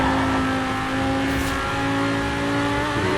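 A blue Lamborghini with a Liberty Walk body kit roars as its engine revs in the racing game Forza Horizon 4. The loud, sustained engine drone holds steady across the moment.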